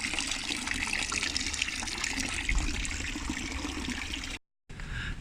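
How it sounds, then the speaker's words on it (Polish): Water runs continuously in a public fountain in Basel, Switzerland, a steady broadband splashing and gushing that stays even and moderately loud, with a brief gap of silence near the end. "I można mieć czystą wodę w fontannie, jak się chce?"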